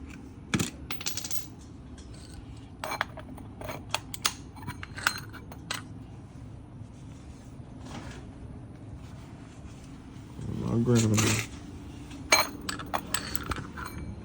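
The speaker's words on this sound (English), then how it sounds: "Now it's time to remove the oil filter." Work under an Infiniti Q60 during an oil change while the oil filter is being removed, a scattered series of small metallic clinks and taps with a short low rumbling scrape partway through, close by and otherwise quiet.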